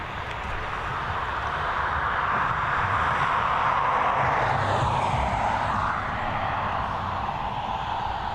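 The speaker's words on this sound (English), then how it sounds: "FR5078 now on its final approach. It's another Boeing 737 operated by Ryanair" A Ryanair Boeing 737 on final approach at Dublin Airport gives off a steady, broad jet roar that swells slightly mid-clip, continuous and fairly loud throughout with no talk.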